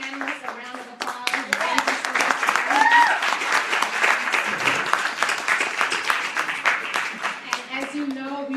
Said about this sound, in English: So we want to give our panelists a round of applause.